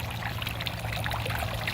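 Water trickles down a tiered garden fountain, spilling over from the top tier in a soft, steady splashing patter with a faint low hum beneath.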